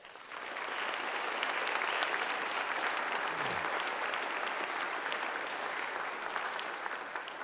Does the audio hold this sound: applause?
yes